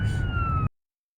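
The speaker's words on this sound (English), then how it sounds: "They are running lights and sirens." Oklahoma Highway Patrol car siren wailing steadily with a sliding high tone over engine rumble, loud and close inside the vehicle, then cutting off abruptly into silence.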